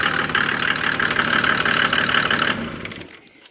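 Mercedes OM603 3.0-litre diesel engine driving a PN-40 motor pump runs with a clattering, knocking idle close by, then is shut off and winds down to near silence.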